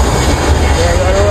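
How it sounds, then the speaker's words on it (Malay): An airplane in Terengganu gives a loud, steady rumbling roar with a faint rising whine, heard at close range through a short continuous stretch. "Sebelum tu kita tengok lu kapal terbang."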